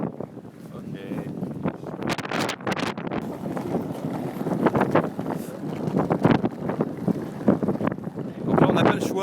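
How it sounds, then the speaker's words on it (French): Wind buffeting outdoors in Libya, loud irregular gusts roaring and rumbling across the microphone throughout, with speech mixed in. "il y a un peu de vent"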